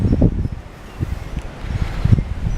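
Gusty wind blowing outdoors in a rural Iowa yard in spring, steady microphone buffeting with rustling leaves, low rumbling bursts rising and falling throughout, no voices.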